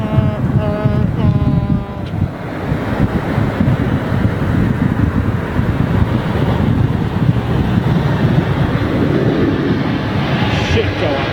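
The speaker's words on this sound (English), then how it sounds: "Listen to those beautiful engines, man." Jetliner engines roar steadily at Heathrow Airport, a broad loud rumble with wind buffeting the microphone and no talk.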